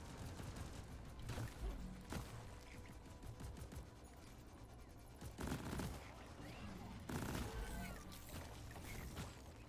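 Weapon fire in Deep Rock Galactic, several loud bursts of rapid bullet shots separated by quieter gaps with background game noise and faint voices.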